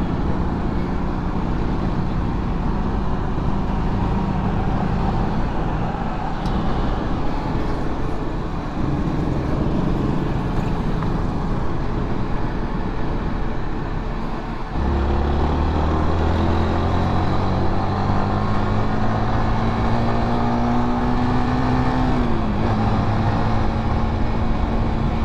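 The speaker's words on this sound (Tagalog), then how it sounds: "Traffic." Busy road traffic rumbles steadily throughout, with trucks, cars and buses passing close by, engine drones and tonal whines rising and falling, including a rising engine note near the end, with no talk.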